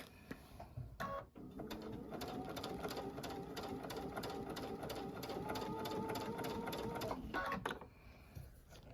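A sewing machine stitches in the ditch on a snow globe wall hanging quilt, a steady, fast rhythmic chatter that runs for about six seconds between short starts and stops. It is quiet and close, with no voice over it.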